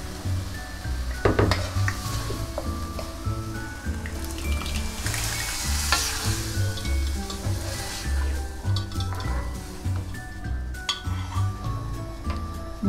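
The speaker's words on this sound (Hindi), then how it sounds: "दाल मिला दी है मैंने तड़के में" Cooked dal being stirred into a hot tomato tadka, giving a constant bubbling sizzle with scattered spoon clinks against the pot over the whole stretch; close, no voices.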